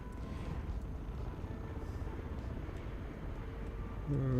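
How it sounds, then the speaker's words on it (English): Another plane passes overhead in Microsoft Flight Simulator 2020 during a flight over southern Japan, a steady, droning engine roar that stays close and constant throughout, swelling slightly near the end. "Oh yeah, there's another plane just above me."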